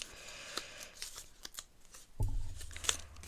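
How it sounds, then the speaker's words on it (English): Scissors snip paper into small scrapbooking pieces in a quiet room, with a series of soft, close clicks and crisp cuts, then a low rustling handling noise near the end. "I'm going to try and cut smaller pieces now"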